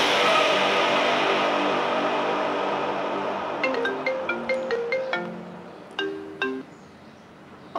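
A mobile phone ringtone plays as a bright, repeating electronic melody of short plucked notes, following a sustained musical passage, moderately loud and close with no talk over it.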